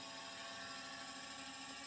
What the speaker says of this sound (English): Oh, flying drone again.